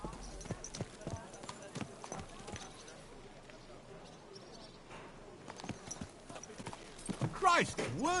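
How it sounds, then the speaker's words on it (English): Horse hooves clop in an irregular series of sharp, close knocks while riding in the video game Kingdom Come: Deliverance II, with a few quieter gaps and a voice speaking near the end. "Watch out with that horse."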